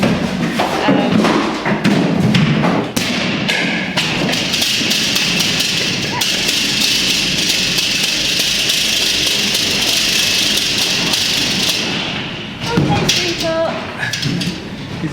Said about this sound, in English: Yep, in this one we've got Benji, who's just about to throw the big orange ball at us.